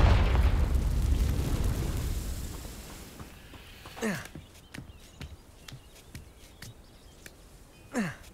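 A Confringo fire spell in Hogwarts Legacy, heard as a loud rumbling blast that decays over about three seconds, followed by a scatter of sharp pops and then a second smaller burst near the end.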